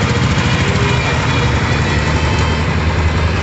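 A Royal Enfield Bullet Standard 350 motorcycle idles steadily at delivery, a loud, close, continuous engine rumble with an even low thump and no break or voices.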